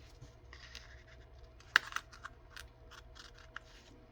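Quiet snipping and scraping of scissors cutting, with a few sharp clicks and small rustles, close up in a quiet room.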